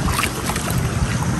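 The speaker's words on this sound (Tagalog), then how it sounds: "may dumaan po na motor po na bangka" A motorized outrigger boat passes nearby on open water during a fishing outing, its engine drone and wash of waves blending into a steady, loud churning rumble with wind buffeting the microphone.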